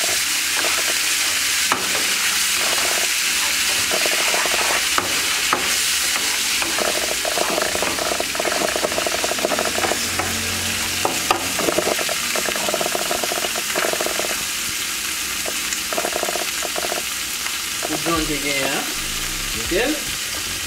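Ingredients frying and being stirred in a pan, a strong continuous sizzle with repeated scraping and clinking from the stirring utensil, a voice briefly audible toward the end.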